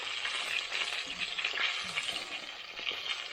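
Chicken fries in hot sunflower oil on a small cooker, a dense even crackling sizzle that holds steady throughout, close and alone.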